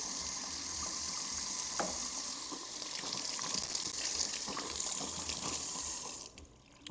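Food is washed under a running kitchen tap during tofu, rice and peas and plantain cooking, a steady close stream of water splashing continuously before it cuts off near the end.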